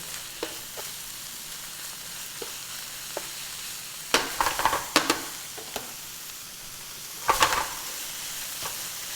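Broccoli stir-fries over high heat in a hot pan for beef with broccoli, a constant hissing sizzle broken by a few sharp, loud clattering bursts as the pieces are tossed and stirred.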